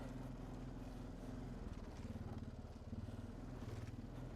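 A Honda Foreman 500 or Rincon 650 ATV engine runs at a steady low idle, close by, with a rapid, even putter throughout and no voices.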